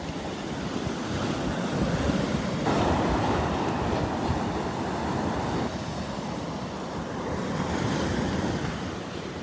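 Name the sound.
ocean waves on Vanderbilt Beach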